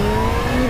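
Supercharged Kawasaki ZH2 motorcycle engine pulling hard under acceleration, a loud, steady close-up drone with rising harmonic tones and no talk over it.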